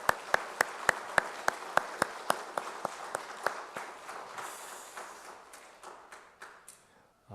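A church congregation at a Sunday service claps in honour of parents, starting with a steady, crisp rhythmic beat of claps that loosens and softens into scattered clapping before fading.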